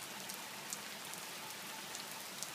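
Smooth, steady rain falls on a blossoming tree, shaking its blossoms loose: an even, continuous hiss of fine drops with faint scattered patters, with no voices.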